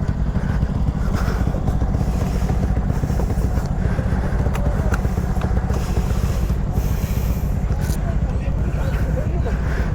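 A Yamaha Mio Gear 125cc scooter engine runs with a rough, continuous chugging putter after stalling in floodwater, close and loud, with background clatter and people talking over it.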